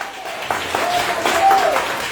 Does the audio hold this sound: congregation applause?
yes